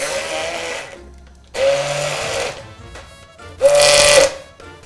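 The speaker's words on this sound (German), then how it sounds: "Jetzt wird gemixt." Short bursts from a kitchen blender whizzing burrata cream for a paccheri pasta dish, three pulses of motor whine with brief pauses between, the last burst loudest and highest-pitched, close up with no talking.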